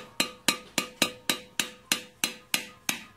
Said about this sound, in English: you put it right in there and start chipping out gently